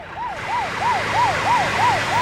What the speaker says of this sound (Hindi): बॉस, एम्बुलेंस है, मुझे लगा पुलिस है।